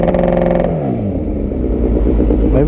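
A car engine revs up to 5,000 RPM, then falls away to a loud, throbbing idle, heard close and alone.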